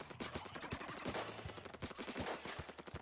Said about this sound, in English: one very special dualie, which allows you to roll 4 times and shoot while rolling